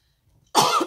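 After a near-silent moment, a single loud, close cough breaks out, with a harsh throaty burst and a short second catch at the end.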